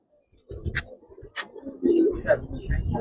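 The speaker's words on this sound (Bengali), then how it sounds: "খুব সুন্দর কবুতর, খুব সুন্দর কবুতর" Giribaz pigeons in Narayanganj giving several soft, low throaty coos in quick succession, close to the microphone, with someone talking over them.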